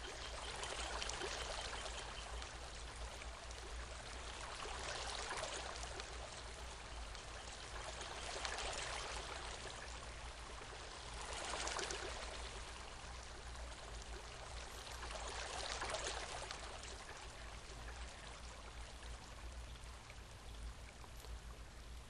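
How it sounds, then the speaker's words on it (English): Water sprays steadily on an amusement park ride in the Second Life game, a continuous hissing rush with gentle swells in loudness and no voices. "And see where the water's just spraying out."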